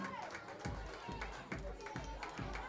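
An audience at a Garba celebration with special kids claps in a slow, regular rhythm, about six distinct beats spaced roughly half a second apart, over background chatter and music.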